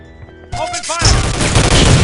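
Gunfire in the PC shooter Soldier of Fortune II: Double Helix: a loud, sustained burst of automatic weapons fire that erupts after a quieter lead-in and continues dense and booming to the end, with earlier radio-style voice chatter in the game mix.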